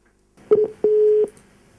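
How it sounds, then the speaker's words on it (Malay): Telephone tones sound as a Radio Era host dials a caller during a community call-in program: two short beeps, then one longer steady tone, clear and alone against near-silence. "Jom kita telefon Khairul sekarang."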